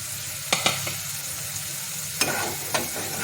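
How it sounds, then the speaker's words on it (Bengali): Spice paste for a black pomfret tel jhal sizzles in hot oil after a splash of water, with a few sharp spoon scrapes and stirs cutting through a steady close frying hiss, no talk. "এবার একটু জল দিয়ে দেবো, যাতে মশলাটা নিচে না বসে যায়"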